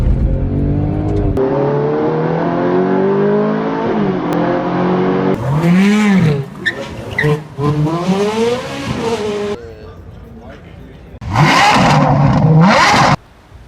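A 2022 Lamborghini Aventador LP780-4 Ultimae revs hard and accelerates, loud and close: a sustained engine drone, then rising and falling surges, crackles and a final high-pitched scream that cuts off abruptly.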